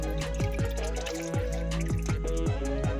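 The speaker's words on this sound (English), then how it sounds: "We're gonna let this drip down for a little bit." Transmission fluid drips from a Chrysler 300 during a transmission service, a steady run of distinct drops landing in a pan under a constant low background hum, no talking.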